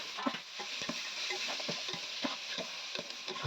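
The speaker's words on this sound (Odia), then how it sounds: "ବର୍ତ୍ତମାନ ପଡିବ କଟା ପିଆଜ ପଡିବ" Chopped onions fry and sizzle in oil for a chicken curry in a hostel kitchen, a steady close hiss broken by regular scraping stirs of a utensil in the pan.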